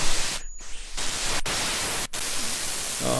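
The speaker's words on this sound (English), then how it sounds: "The dial-up modem sound." Synthesizer module producing a dial-up modem sound: a loud harsh hiss of static with brief dropouts and clicks, and a faint warbling tone creeping in near the end.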